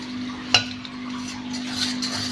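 Butter and powdered sugar are whisked together in a bowl for butter cookies: a short, soft scraping stir with one sharp clink of the whisk against the bowl near the start.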